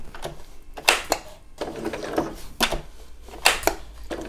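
A sewing machine stitching black thread through appliqué fabric, heard up close as short, uneven bursts of mechanical clatter and ticking, stopping and starting while the fabric is turned around a tight corner.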